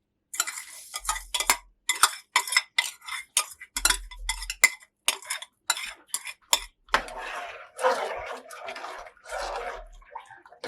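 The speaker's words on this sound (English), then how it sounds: "I'm gonna stir to get everything together" A spoon scrapes and clinks against a pot while yellow rice is stirred, giving repeated close metallic strokes in uneven bursts with brief pauses between them.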